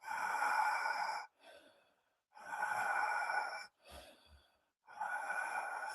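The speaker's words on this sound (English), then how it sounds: "And every time you blow out, you go in again." Deep breathing exercise done close to the microphone: long, forceful breaths blown out alternate with shorter inhales in a slow, steady rhythm, three long exhales separated by quieter in-breaths and brief pauses.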